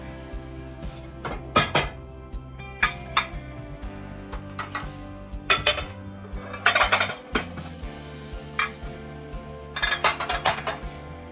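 Pots, pans and dishes clank and clink as kitchen cabinets are emptied for decluttering, with repeated close metallic and ceramic knocks in irregular bursts and occasional cabinet noises. No one speaks.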